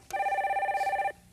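A telephone rings once as a radio call-in line connects, a single steady electronic trilling tone of about one second, clear and close, starting and stopping abruptly.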